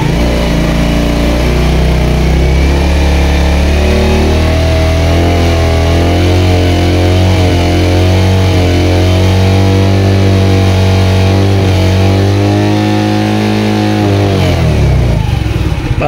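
A 2022 Suzuki Smash 115 motorcycle engine held at high revs, a loud steady droning whine that wavers slightly in pitch before dropping off sharply at the end.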